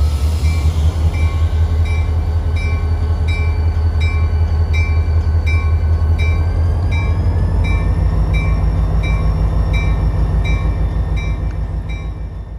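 Florida East Coast Railway switcher FEC 960 rolls past at Pompano Beach, a loud, steady low diesel rumble with wheel and rail noise and ringing metallic squeal tones, continuous and close, easing slightly toward the end.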